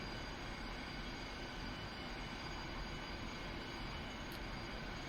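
Steady, even roar of a Su-25 jet's spooled-up engines in a flight simulator game, a dense broadband drone holding constant throughout with no voices.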